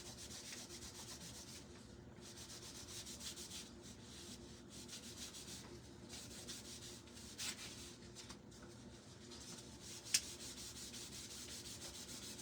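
Gloved hands rub stain onto a pumpkin banner in a steady, soft scrubbing hiss. The strokes run on continuously at low level, with one sharp click near the end.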